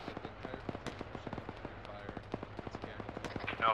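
Rapid gunfire from a BTR armored vehicle in ARMA 3, a fast stream of sharp cracks and pops in quick bursts at mid distance, continuing steadily for several seconds.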